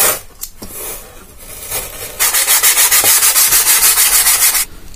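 Close-up sanding of a model plane wing. A few scattered scrapes come first, then a fast, even run of rhythmic rubbing strokes that stops abruptly.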